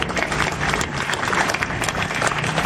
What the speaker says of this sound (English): Give a huge round of applause for sir.